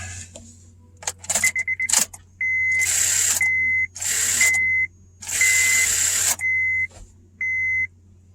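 A 2008 Honda Civic that will not start gives short bursts of rapid clicking and chattering, separated by silences, with thin electronic chime tones in between, close and fairly loud.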